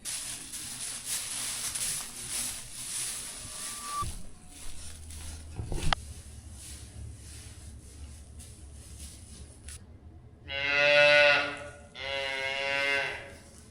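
Heifers in a cattle barn, with two loud, drawn-out moos close by near the end after a stretch of quieter shuffling and background noise.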